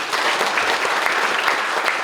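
Audience applause at a lecture hall event on provincial state investment budgets, steady and dense clapping throughout the short stretch.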